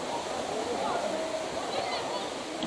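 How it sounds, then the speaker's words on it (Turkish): A waterfall on a nature hike, a steady broadband rush of falling water that fills the whole clip, close and constant, with faint voices mixed in. "Burada bir şelale var."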